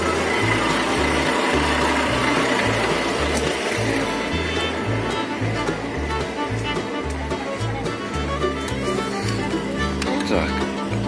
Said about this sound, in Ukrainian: Світиться ПТО, значить, працює насос.